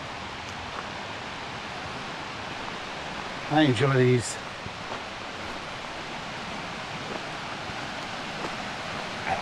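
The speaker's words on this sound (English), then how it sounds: "I call it a babbling brook, maybe" A small river or babbling brook flows steadily near the Kancamagus Highway, a soft, continuous wash of water rushing over stones, heard at moderate distance with one brief spoken remark partway through.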